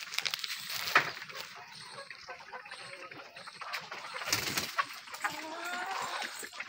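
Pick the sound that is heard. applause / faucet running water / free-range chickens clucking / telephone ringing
free-range chickens clucking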